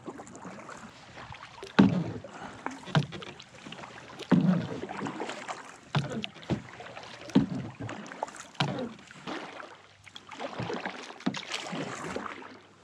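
Kayak paddle strokes on cold winter water during a solo trout fishing trip, each stroke a soft splash and drip repeating every second or two at close range, with faint wind noise in the background.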